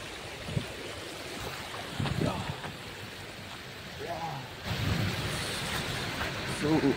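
A small stream near the Koshi river flows with a continuous, fairly soft rushing wash, and a person talks briefly over it.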